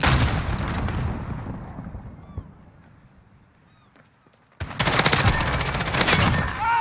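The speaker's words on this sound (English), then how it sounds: "So many nades being chucked over there." Grenades going off in a shooter video game: a dense burst of explosions and gunfire, a quieter lull with faint distant pops, then a loud sustained barrage of blasts to the end.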